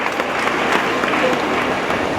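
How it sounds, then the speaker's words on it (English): Audience applause at a women's summit in Anambra State, a steady, dense wash of clapping filling the room throughout, fairly loud and continuous. "I think we deserve a round of applause here."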